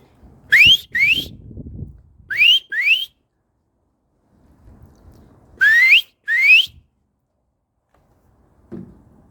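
A person whistles in pairs of rising, high-pitched notes to call a robin in a garden, three clear double whistles spaced apart with quiet gaps and a faint rustle between them.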